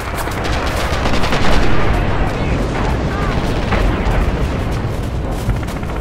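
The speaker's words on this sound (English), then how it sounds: "Oh, so much shooting on me." Dense, loud gunfire in Red Orchestra 2 at a tractor factory assault, rapid machine-gun bursts and cracking shots overlapping continuously with booms, close and relentless.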